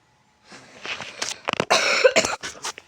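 A sick young man coughs repeatedly in a rough, wet fit, a run of close, harsh bursts with throat clearing in between, after a brief silent start.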